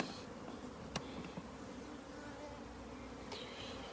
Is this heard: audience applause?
no